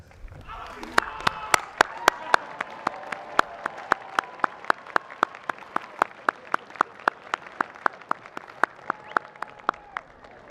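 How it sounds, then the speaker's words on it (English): At a commencement ceremony, graduates clap in a steady, evenly spaced rhythm of sharp claps close to the microphone, with brief faint voice sounds near the start. "turn to those that helped you reach this milestone and applaud to them in thanks"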